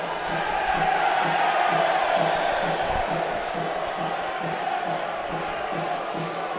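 Hull Stingrays ice hockey fans cheer at a home game against Braehead Clan, a loud, sustained crowd roar with a steady rhythmic pulse running through it.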